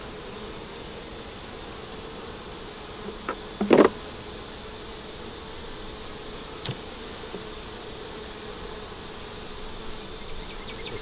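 Bees hum around an open, growing beehive in a steady, fairly faint buzz throughout, with a brief sharper knock or tap near the middle.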